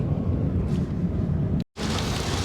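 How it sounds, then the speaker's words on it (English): Heavy rain pours down in a steady, dense roar, with a brief cut to silence before the downpour resumes, near the KLCC in Kuala Lumpur. "as you can see from the weather, it started like heavy downpour on the way to KLCC"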